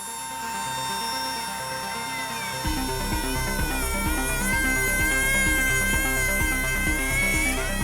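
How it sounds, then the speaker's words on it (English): A high-pitched power drill whines steadily, joined after a few seconds by a grinding, juddering mechanical churn as it bites into the hard metal of an airplane's bearing mount. "drill into the bearing's mount to replace it"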